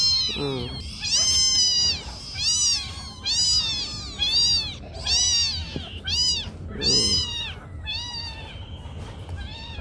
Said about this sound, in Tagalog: Nandyan si pusa